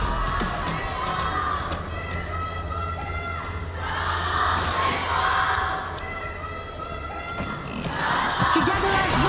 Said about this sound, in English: Cheer it up for our favorite team.